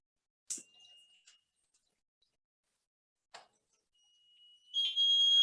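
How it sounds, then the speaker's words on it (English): A shrill electronic water tank level buzzer sounds in short tones with silent gaps, then rings continuously and loudly as the tank nears full, with a few clicks nearby. "The buzzer is ringing, indicating us the water is nearly full in the water tank."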